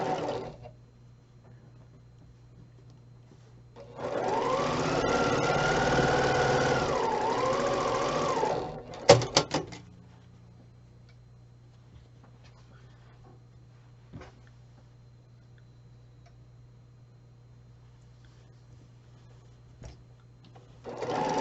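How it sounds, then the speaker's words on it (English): A domestic sewing machine stitches rows of a patriotic quilt block together in one steady whirring run of about four seconds, then stops with a few sharp clicks, leaving only a low hum. "we just have to sew these rows together and we'll be done with this block already"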